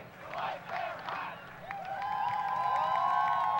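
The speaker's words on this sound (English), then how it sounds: "You can hear the crowd really getting into it now." A crowd at a high school ultimate frisbee conference championship between White Bear Lake and Hudson cheers and yells, the voices swelling into a louder sustained roar toward the end.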